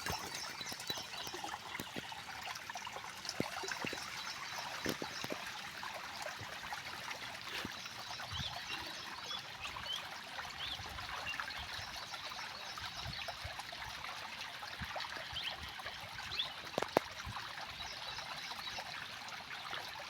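Continuous rushing and gurgling of fast-flowing stream water during rain, steady and fairly close, with occasional small splashes.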